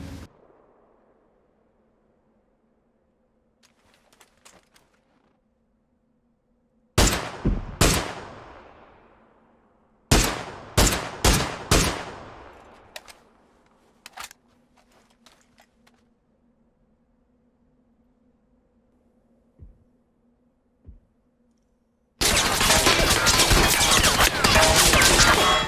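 Gunfire in the battle royale game PUBG strikes a roof, loud cracking bursts in clusters separated by quiet gaps, ending in a sustained barrage of rapid impacts.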